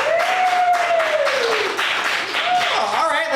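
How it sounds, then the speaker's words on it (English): Audience applause and cheering at an improv comedy show, voting for a performer; loud, continuous clapping with a whooping voice rising over the crowd. "Applaud for Valley of Dreams."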